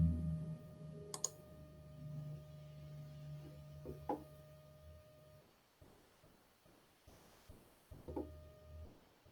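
Computer mouse clicks sound as a few sharp, faint, isolated ticks over a quiet electrical hum, spaced several seconds apart.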